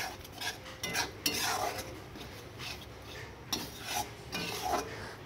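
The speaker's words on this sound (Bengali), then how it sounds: "এবার মাছগুলো দিয়ে দিচ্ছি। এবার ভালো করে কষিয়ে নেওয়ার পালা।" Fish fries with spices in a pan in a village kitchen as a utensil scrapes and stirs it, giving repeated rasping strokes and clinks over a low background sizzle.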